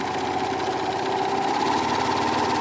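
A serger sewing machine stitching off a seam while looper and needle tensions are adjusted: a steady, fast mechanical whir with a rapid even rattle, running continuously and fairly loud with no talking.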